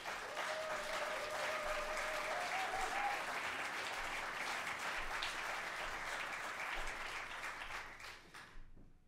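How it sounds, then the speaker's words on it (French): A concert audience in a Bozar hall gives sustained, even applause, a dense wash of clapping that holds steady before fading out at the end, with a brief voice faintly audible early on. "Je voudrais aussi un tonnerre d'applaudissements à toute l'équipe du Beaux-Arts"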